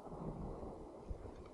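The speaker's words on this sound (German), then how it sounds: "Jetzt kommt auch noch ein Sturm, oh Mann." A thunderstorm rolls through the Fallout 4 wasteland, with a steady low rumble of thunder, wind and rain and a brief heavier crack just past the midpoint.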